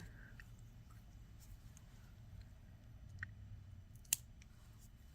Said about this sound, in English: cut the extra wire off here